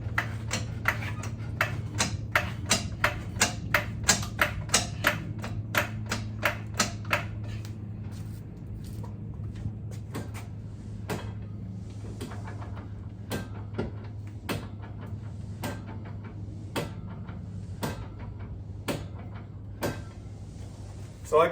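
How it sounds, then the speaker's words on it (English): A differential locker ratchets in a Jeep Grand Cherokee ZJ, giving rapid regular clicks in the first seven seconds, then slower, sparser clicks over a low steady hum, all fairly faint. "So I can hear the locker ratcheting on this side."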